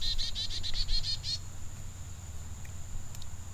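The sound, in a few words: bird calling outdoors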